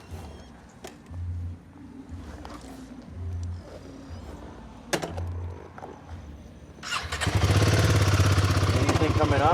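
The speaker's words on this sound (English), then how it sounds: "Okay, start up your bike." Royal Enfield Himalayan 450 motorcycle with a misfire and sensor fault, starting up after several low intermittent cranking or engine pulses, then settling into a loud, steady running engine near the microphone, with voices talking earlier.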